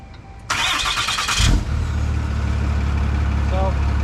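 A pickup truck engine cranks briefly with a whirring starter, catches, then settles into a steady, low rumbling idle close by.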